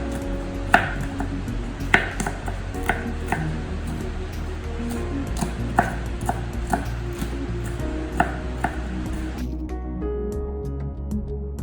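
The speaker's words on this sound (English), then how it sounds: "spring onions, chop them together into small bits" Spring onions being chopped into small bits on a board, sparse knife thunks at irregular intervals over a steady background hum, close but fairly soft.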